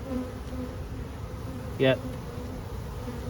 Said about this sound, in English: not a crazy buzz. Good sign that they are queen right.